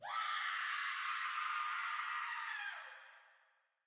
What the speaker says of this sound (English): Did you hear the scream?